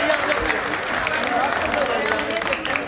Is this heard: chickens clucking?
no